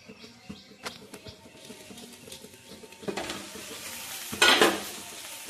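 Bengali duck curry meat being stirred in a pan, with scraping and soft sizzling that builds to a loud burst of spoon-on-pan scraping near the end, no voices.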